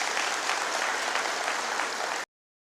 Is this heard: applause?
yes